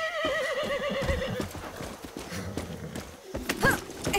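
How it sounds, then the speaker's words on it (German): Several horses in the Far Cry 6 video game neigh and whinny loudly over hoof clip-clops and scattered thuds, with a louder whinny near the end. "das klingt eindeutig nach Pferden"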